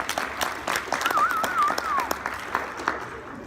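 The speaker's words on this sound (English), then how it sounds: "Let's give them a round of applause." Audience applause at a tech conference session, a moderate, irregular patter of many hands clapping close by, with a short whistle sliding through the middle.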